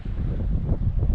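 Strong wind buffets the microphone outdoors at an overnight bivouac, a continuous loud, low rumbling roar with gusty swells throughout and no talking.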